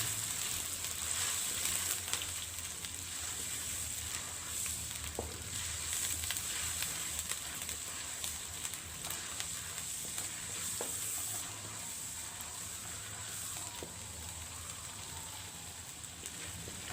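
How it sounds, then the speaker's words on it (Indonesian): Onions frying in hot oil for beef rendang give a constant close sizzle and crackle, with faint stirring clicks throughout and no talking. "saya goreng dulu bawangnya ini hingga mengeluarkan aroma yang wangi"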